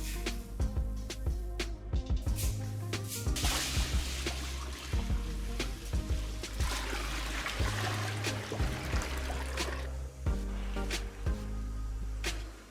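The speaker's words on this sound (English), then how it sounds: "I add plenty of cold water to the wheat," Plenty of cold water poured onto 22 kilograms of wheat in a large pot for a big batch of Ashura pudding, giving a steady trickling, sloshing flow throughout with occasional knocks and clanks, close by and with no talking.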